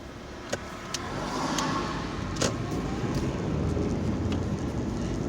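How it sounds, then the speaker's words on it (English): A fairly large bus overtakes a bigger bus on a seaside road, giving a steady broadband traffic roar that holds for the whole stretch, with a few faint clicks and no talking. "a smaller but still large bus overtaking that big one there"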